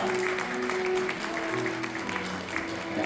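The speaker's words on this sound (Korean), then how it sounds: "여러분들의 큰 응원의 박수를 부탁드립니다." Wedding guests applaud at a Korean ceremony as the bride and groom bow to their parents, a steady wash of clapping held at even loudness under a sustained musical tone.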